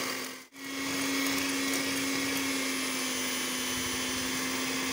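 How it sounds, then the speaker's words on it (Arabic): An electric hand mixer starts after a brief pause and whirs steadily with a constant high motor hum, close and loud, beating pasta frola dough, no talking. "هنجيب المضرب الكهربائي بتاعتنا"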